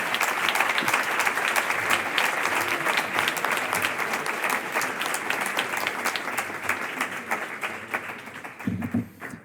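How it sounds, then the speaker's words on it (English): Loud, prolonged clapping from a crowd at a tech venture event in Madrid that gradually thins and fades, ending with a few scattered claps and a brief voice. "Let's give another round of applause."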